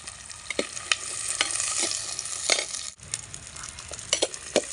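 Sliced shallots and chillies sauté in a pan for a snail gravy, giving a steady close sizzle broken by repeated scraping stir strokes and one brief clank of a spoon against the pan.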